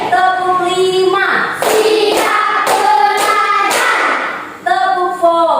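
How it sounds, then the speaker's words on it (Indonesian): Sharp claps land in a counted classroom ice-breaker pattern, forming a run of about five distinct, evenly spaced slaps that are loud and near, between stretches of sustained tonal voice or melody. "Tepuk 5."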